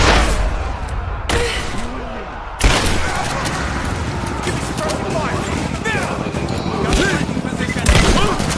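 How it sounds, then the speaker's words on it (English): Dense gunfire crackles in Rise of the Tomb Raider during a firefight at the edge of a village, with rapid bursts, scattered booms and shouted voices mixed over a continuous loud battle din. "We're under fire at the edge of the village"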